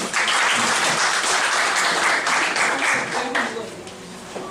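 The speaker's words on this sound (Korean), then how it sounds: "박수로 시작하죠." Audience at a political debate forum opens the session with loud, sustained applause, a thick wash of clapping from a full room that tapers off toward the end amid a few voices.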